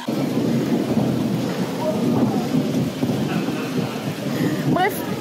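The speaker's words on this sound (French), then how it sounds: "Est-ce que vous entendez l'orage là?" Thunderstorm over New York streets: heavy, steady rain with a deep rolling thunder rumble filling the background, loud and continuous, with faint voices mixed underneath.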